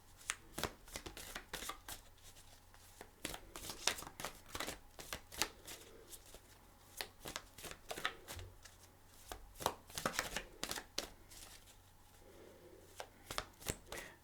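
Tarot cards are shuffled close up in quick, repeated riffling bursts with brief pauses between them, and no talking.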